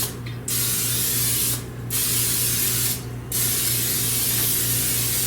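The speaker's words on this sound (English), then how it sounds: "Spray it with some non-stick spray." Non-stick cooking spray hissing from an aerosol can into a 9x13 baking dish, three sustained bursts with short pauses between, close and loud over a steady low hum.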